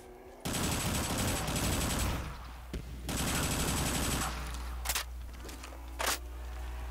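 Loud sustained automatic gunfire in a Black Ops 3 custom zombies map set in a desert, two long bursts followed by a few single sharp shots, close and dense.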